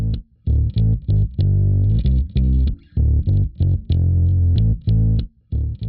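Bass guitar part played through the RP-Distort amp simulation with a 4x10 cabinet, short punchy distorted notes in a choppy rhythmic pattern with brief gaps, alone and upfront.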